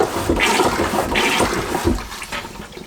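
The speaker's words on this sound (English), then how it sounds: "When the pump is set to flush, bringing in water and letting out water" Repeated rushing gurgles of water from a manual marine toilet pump aboard a Dufour 460 Grand Large sailing yacht, each stroke a whooshing flush in a steady rhythm, close and fairly loud.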